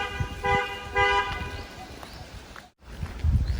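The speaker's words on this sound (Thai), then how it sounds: "เขาบีบแตรทำไมอ่ะ" A car horn sounds on the road near a volcano site in Buriram, two short harmonic toots close together, with engine rumble and faint voices behind.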